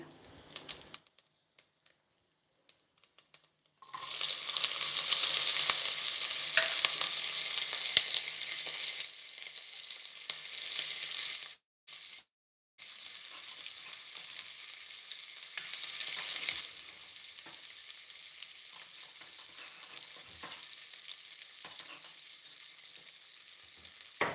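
Cut onions dropped into hot oil and frying, a loud bright sizzle that bursts in after a quiet start, briefly cuts out, then continues more gently with scattered crackles.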